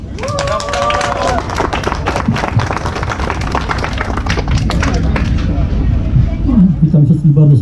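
Crowd applause and cheering for participants of an outdoor race event, dense steady clapping throughout with voices mixed in, loud and close.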